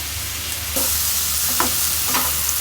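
Fish frying in oil with green chillies, garlic cloves and onion, a steady close sizzle with a few soft stirring knocks partway through and no voices.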